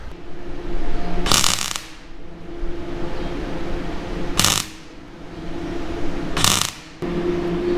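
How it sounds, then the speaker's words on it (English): Brief welding passes add extra metal onto farm equipment: three short, crackling bursts spaced a few seconds apart over a steady low background hum. "I'm just going to weld a bit of extra on there."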